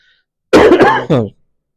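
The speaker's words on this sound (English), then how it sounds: "Excuse me, I do have a cough." One person coughs twice in quick succession, harsh and close, a throaty rasp followed by a shorter bark, with silence before and after; the cougher is recovering from COVID.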